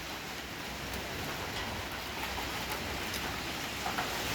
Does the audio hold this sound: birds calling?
no